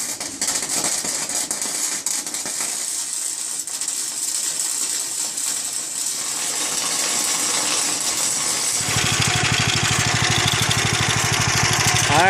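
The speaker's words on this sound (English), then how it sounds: "Alright guys, we got it running." A shiftable go-kart engine runs continuously, a steady mid-pitched motor drone that grows louder and rougher in its final few seconds, with no talking.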